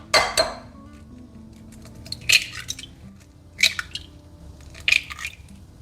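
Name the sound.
eggs being cracked into a bowl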